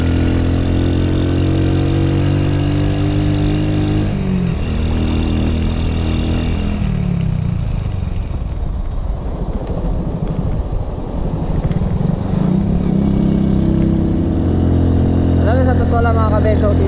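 A motorcycle engine labors steadily uphill on the Halsema Highway toward Baguio, a loud continuous drone with shifting pitch as revs rise and fall, wind rushing throughout.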